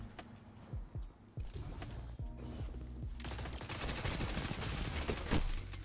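Rapid sidearm fire from the Peacebond in the shooter game Destiny 2: a quick string of sharp shots that thickens into dense, loud continuous gunfire over the second half, with no talking.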